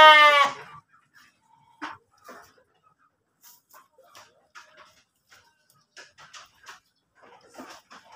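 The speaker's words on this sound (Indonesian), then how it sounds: "Bagus untuk ternak nih sahabat, kambing, kambing kacang atau kambing kerikil nih." Kacang goats bleat in a pen, one loud close bleat at the start followed by scattered faint bleats, rustles and shuffling farm sounds.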